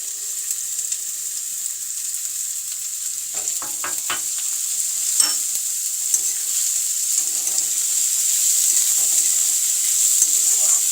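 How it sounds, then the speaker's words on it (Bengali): Onion fries in hot oil in a wok, giving a steady bright sizzle with a few scraping stirs and clinks partway through, close and continuous for the whole stretch. "পেঁয়াজটা হালকা ব্রাউন কালার হওয়া পর্যন্ত আমি এটা ভাজতে থাকবো"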